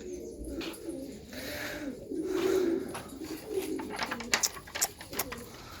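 Pigeons cooing in a home loft with young birds, low murmuring coos repeating steadily at close range, with a few sharp clicks and scuffs toward the end.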